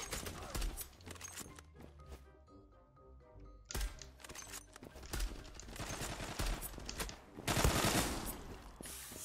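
Rapid gunfire from the online shooter Zula, with machine-gun bursts and single shots crackling in uneven volleys at moderate level, a short quieter gap midway, then heavier firing toward the end.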